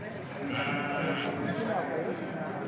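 Sheep at a livestock sale bleat in a steady chorus, moderately near but fairly quiet, mixed with background talk and crowd noise.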